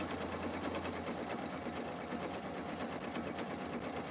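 Sewing machine stitching fabric for a simple sewing project, a steady continuous mechanical whir running close up and alone throughout.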